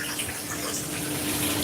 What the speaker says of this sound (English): We're gonna drain off the excess water